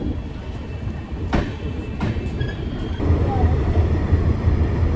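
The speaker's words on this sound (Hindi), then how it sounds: "जी भैया अपनी ट्रेन चल चुकी है।" A passenger train pulls out of Delhi Sarai Rohilla station, with a steady rumbling roll and a few sharp rail clicks and clanks, heard from inside the carriage.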